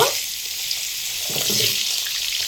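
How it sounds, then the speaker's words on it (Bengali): Cut vegetable stalks dropped into hot oil for Bengali shukto: a steady broadband sizzle and spatter, close and continuous, swelling slightly as the stalks hit the pan. "এবার তেলের মধ্যে কেটে রাখা ডাটাগুলো দিয়ে দেব"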